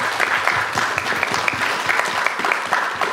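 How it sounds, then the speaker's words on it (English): A panel crowd at a Star Wars Q&A gives Kenny Baker a quick round of applause: dense, continuous clapping from many hands, steady and fairly close, with no talking over it. "can we have a quick round of applause for Kenny Baker?"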